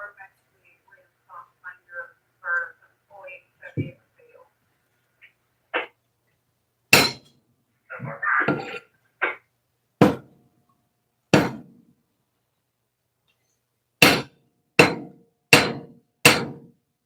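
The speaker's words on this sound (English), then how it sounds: "I'm off to the side hammering this piece of gold flat again" A hammer strikes a piece of gold on a steel plate in sharp, ringing metallic blows, spaced irregularly and then coming in a quicker run of four near the end, close and loud, after a stretch of quiet speech.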